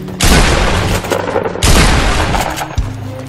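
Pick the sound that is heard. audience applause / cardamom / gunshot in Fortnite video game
gunshot in Fortnite video game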